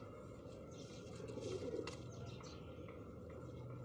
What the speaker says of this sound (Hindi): ब्रीडर कबूतर है ये वाला।